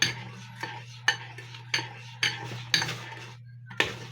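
Pancake batter being mixed in a bowl, a utensil knocking against the side in regular clinking strokes about every half second over a steady low hum.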